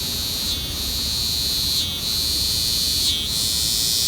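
A cicada chorus: a shrill, continuous, high-pitched buzzing that holds steady and close, dipping briefly three times before swelling back, with no voices.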